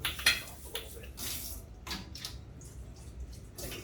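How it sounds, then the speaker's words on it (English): Filtered water running from a small drinking faucet in a kitchen in Thailand, a light splashing trickle with uneven bursts and drips, close by, with no talk. "I got filtered water coming from this little drinking faucet here"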